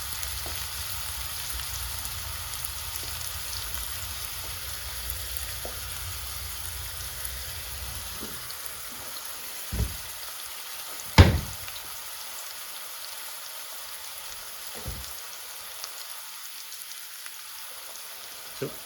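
Garlic and chicken tikka frying in a pan give a steady sizzle that fades midway, followed by a few sharp knocks and clatters in a quieter stretch.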